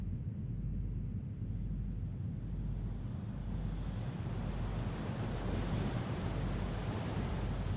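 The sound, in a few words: waves and howling wind in a sea cave, video game Foolish Mortals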